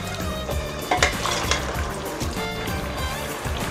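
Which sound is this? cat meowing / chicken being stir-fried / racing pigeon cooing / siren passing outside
chicken being stir-fried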